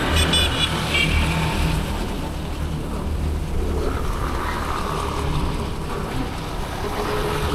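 Traffic jam of many cars on a mountain road at Puncak near Gunung Mas, a continuous dull rumble of engines and road noise at moderate distance, with no talk.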